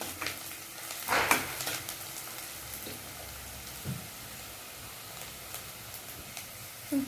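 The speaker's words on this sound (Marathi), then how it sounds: "थोडा कांदा फ्राय होऊ द्यायचा, थोडा लालसर होऊ द्यायचा" Onion frying in a pan for dhaba-style palak paneer, a continuous low sizzle broken by a few louder spatula scrapes and stirs early on, heard alone without talk.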